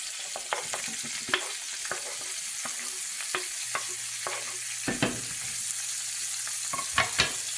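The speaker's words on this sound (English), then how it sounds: "Now I'm going to fry my 6 onions." Six onions sizzle steadily in a hot pan, a constant crackling hiss broken by scattered clicks and scrapes of stirring.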